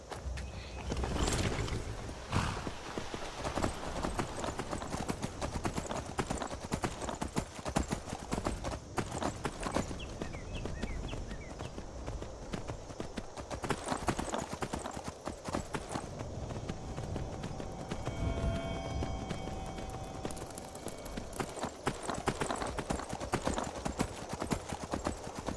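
Horse hooves in the Skyrim video game, a steady rhythmic clip-clop of a walking horse lasting throughout, with occasional louder thuds and faint background sounds.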